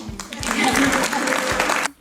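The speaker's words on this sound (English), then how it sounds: "Can I get a round of applause for Tessa's shoes?" Brief audience applause breaks out at a speaking event, a short burst of clapping that stops abruptly after about two seconds.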